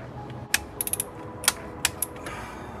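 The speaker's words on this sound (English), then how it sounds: "I'm gonna torque the idler pulley to 22 foot-pounds of torque." A torque wrench tightens the idler pulley on a BMW E92 M3 during an underdrive pulley kit install, giving a handful of sharp, close ratcheting clicks in irregular bursts over a faint background.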